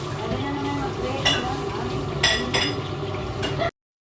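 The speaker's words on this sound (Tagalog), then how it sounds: "Iluluto na namin to. Ito yung bihon na aming inano kanina binalot." Rice noodles (bihon) stirred in a pan in a kitchen, a steady sizzling fry with a few sharp clinks of utensil against the pan, fairly quiet and close.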